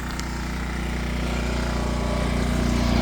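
An iPower 2300 inverter generator runs steadily after its first pull, giving a continuous loud engine drone with a strong low hum and no break for the whole stretch.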